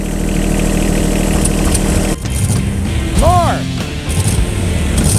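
An abandoned 1979 Chevrolet engine that runs with a miss idles loudly and close, then gives a quick rev that climbs and falls back, while people talk briefly over it.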